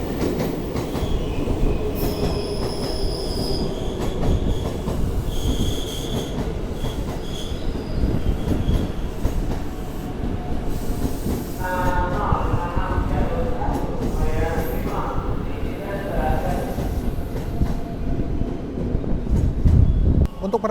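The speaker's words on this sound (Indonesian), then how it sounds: "ini di sebelahnya ada KRL komuter lain ya yang masuk" A KRL commuter train rolls into Jatinegara station on the adjacent track with steady rumbling wheels, clatter and squealing brakes, while people talk nearby.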